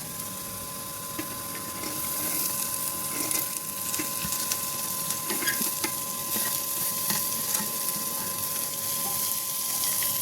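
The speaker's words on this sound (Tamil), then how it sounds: "இப்போ வெங்காயம் கொட்டிக்கலாம்" Onions tipped into a hot pan for mutton curry and stir-fried, giving a steady broadband sizzle with scraping and clinking stirring strokes throughout, close and fairly loud, with no voices.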